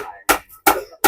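Three sharp, separate hammer blows land at a steady pace, each a close, dry knock followed by a short silence.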